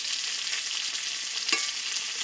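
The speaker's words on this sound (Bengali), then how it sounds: "কচুটা দিয়ে একটু নেড়ে চেড়ে নেব" Chunks of taro turned in a hot frying pan of oil, a steady close sizzle with one sharp scrape of the spoon partway through.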